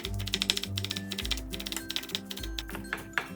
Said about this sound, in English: Cut 1 to 2 green onions in half lengthwise, then slice them thinly.